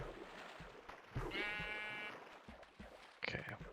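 A Minecraft sheep gives a drawn-out bleat near the middle, fairly clear over a low game background, with a brief second bleat near the end.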